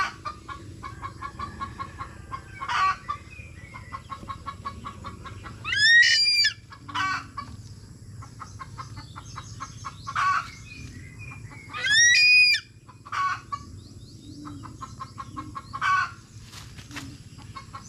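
Chickens belonging to a farmer cluck steadily at close range, with repeated bursts of louder, rising fowl calls standing out over the clucking.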